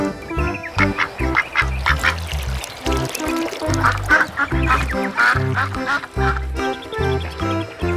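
A toy duck gives a string of bright, nasal quacks in an irregular rhythm, loud and close, over a busy background of other sound.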